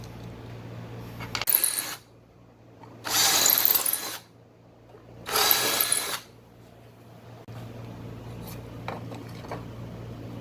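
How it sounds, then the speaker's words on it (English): Studs are screwed into floating house address numbers by a power tool in three short whirring bursts separated by quiet pauses, with faint mechanical clicks between. "Okay, so now we just get our numbers and attach the little studs. They just screw right in."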